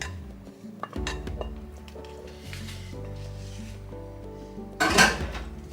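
Steamed, deboned fish dropped into a pot of okra soup with clinks of utensils against the pot, a brief splashy burst near the end, close and moderately loud with no talk.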